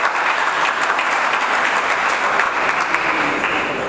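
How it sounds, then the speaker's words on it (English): Audience applause at a tech startup talk, a dense, steady wash of clapping from a sizable crowd, even and continuous throughout. "Give her a round of applause"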